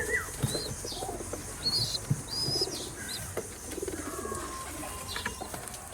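Pigeons in a loft give soft, low coos with a brief flutter of wings, moderately close and continuous against a quiet room background.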